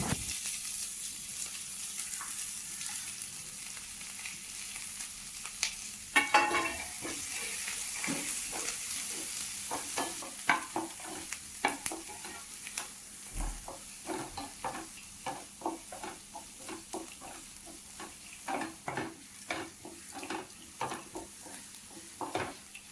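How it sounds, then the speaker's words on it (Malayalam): Chopped onion and curry leaves sautéing in a pan for a Kerala-style jackfruit thoran, with a continuous soft sizzle and frequent rhythmic scraping stirs that grow more regular over time, no talking. "അരിഞ്ഞു വെച്ചിരിക്കുന്ന സവാളയും കൂടി ചേർത്ത് കൊടുത്ത് നല്ലപോലെ വഴറ്റിയെടുക്കാം"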